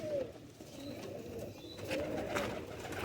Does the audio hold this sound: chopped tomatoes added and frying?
no